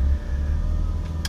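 BMW M3 F80 engine running steadily during a test drive, a continuous low drone heard from inside the car, with a brief sharper burst near the end.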